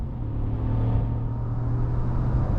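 A 2021 Ram 1500 Rebel pickup kicks down and accelerates hard, a low engine rumble rising in pitch through quick shifts of its 8-speed automatic, heard from inside the cab.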